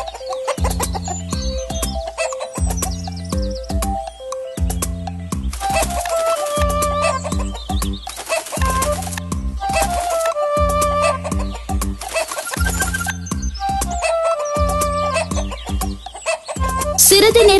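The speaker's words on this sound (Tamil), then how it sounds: "அவனது குடிசை வாசலில் ஒரு கோழி கூவும் சத்தத்தை அவன் கேட்டான்" A rooster crows and clucks at the doorway of a village hut, repeating over a steady, rhythmic music track throughout.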